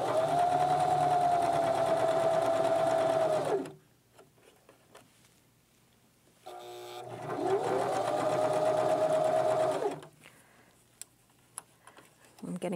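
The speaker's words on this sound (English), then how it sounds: "I'm going to lift my needle and my presser foot, scooch it over, and then continue sewing" A home sewing machine stitches a lined zipper pouch in two steady runs of several seconds each, with a quiet pause between them while the needle and presser foot are lifted and the fabric shifted. The whirring motor sounds close and clear.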